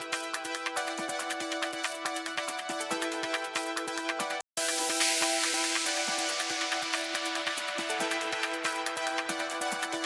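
Build-up section of an electronic track: dense, rhythmic layers of synths and percussion driving steadily, a momentary dropout, then a brighter noise sweep swelling over the continuing pattern.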